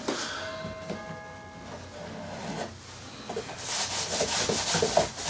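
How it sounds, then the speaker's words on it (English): A wet rag rubs and wipes filler off the surface of a 3D wall panel, a close, uneven scrubbing swish that grows louder and brisker toward the end. "take a wet rag and just clean it off"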